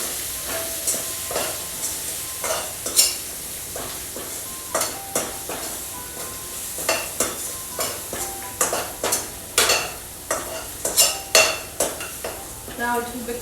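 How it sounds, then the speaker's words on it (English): Spoon stirring and sautéing in a hot pan for palak paneer, a steady sizzle under repeated scraping strokes that knock against the pan in an irregular rhythm, close and fairly loud with no voice. "Saute it a bit."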